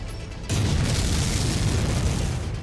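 Missile explosions in Mechwarrior 5: Mercenaries, a heavy booming blast that starts abruptly and rumbles on loudly and close for the rest of the moment.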